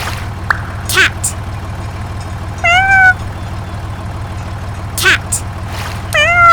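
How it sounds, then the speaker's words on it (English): Several short cat meows come at intervals over a constant low hum, close and clear, with a couple of brief clicks and chirps between them. "Cat."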